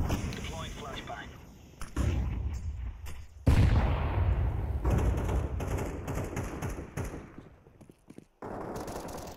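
A flashbang grenade going off in a video game, a sudden loud bang that stands out amid bursts of gunfire, with players talking over the action.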